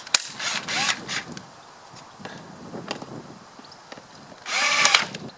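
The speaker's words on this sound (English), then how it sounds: "back to our drill with the T25" A power drill with a Torx T25 bit whirs in several short bursts, driving screws with brief pauses between, the last burst longest and loudest, close by, while fitting an air filter on a Volkswagen Up! GTI.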